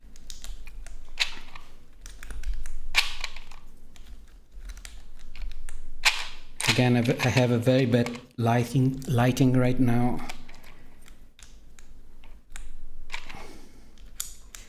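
Keys clack in quick bursts on a mechanical keyboard, nearby and crisp, with someone talking between and over the clusters of keystrokes.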